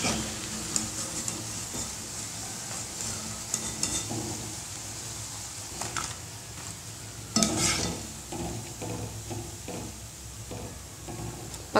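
Cabbage pakoda bubbles and sizzles steadily in hot oil, with intermittent clinks and scrapes of a slotted spoon lifting the fritters out and a louder clatter partway through.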